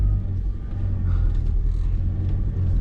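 A truck arrives nearby with a close, steady low rumble of its engine, loud and continuous with a slight swell, and no talk over it.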